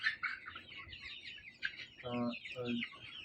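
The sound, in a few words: Sahyadri breed chickens clucking on poultry farm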